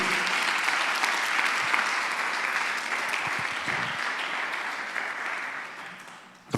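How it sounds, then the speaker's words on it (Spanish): A church congregation claps together in sustained, dense applause for several seconds, steady and fairly loud, tapering slightly before ending abruptly. "Dale un aplauso al Señor. Dale fuertes palmas a Él si estás agradecido."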